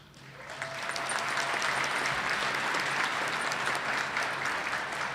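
A commencement ceremony crowd in Albany breaks into applause for an award recipient, the clapping swelling in quickly and holding as a full, even roar of many hands.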